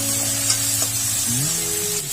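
Peanuts sizzle and crackle in a hot pan for masala dosa, a steady close frying hiss with a low background hum throughout.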